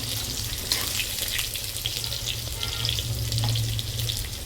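Potato and green banana frying in oil in a home kitchen pan, a steady close sizzle and crackle throughout with a low hum beneath, no talk.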